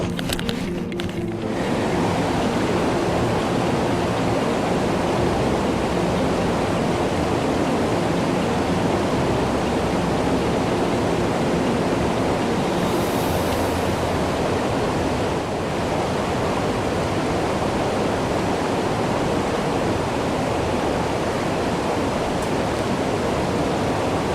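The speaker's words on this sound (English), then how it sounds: "we're back up to the first water crossing" A mountain stream at a hiking-trail water crossing in Linville Gorge, a loud, continuous roar of rushing water close by, with a brief handling knock at the start.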